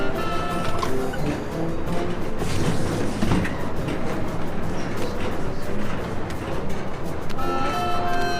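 Train from a Sam & Max adventure game, a steady rumbling, clattering run with horn-like tonal toots near the start and end, loud and continuous.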